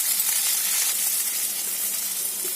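Crushed garlic sizzles steadily in hot ghee, a close, continuous bright hiss and crackle with no voices.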